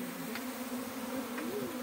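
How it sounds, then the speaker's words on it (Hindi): Indian honeybees (Apis cerana indica) buzzing around and entering a hive box in Mandi, Himachal Pradesh, a steady droning hum with a few bees passing close, wavering slightly in pitch. "तो इस तरह से जो है मधुमक्खी हमारी बॉक्स के अंदर आ रही है दोस्तों"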